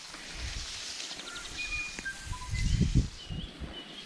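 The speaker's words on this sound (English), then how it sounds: "Hear the birds." Forest birds in native bush along a walking trail give several short, high whistles and chirps, fairly clear but scattered, over footsteps and rustling of walkers moving close by.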